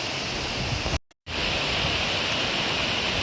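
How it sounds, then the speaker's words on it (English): An underground waterfall in a limestone cave gives a steady, dense rushing roar that briefly cuts out before resuming just as strong. "That's the waterfall there."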